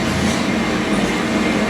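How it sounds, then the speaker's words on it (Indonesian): A train rolls past close by, a loud, steady rumble of rail cars with a continuous broadband roar and no talking. "Kereta ya sebenarnya."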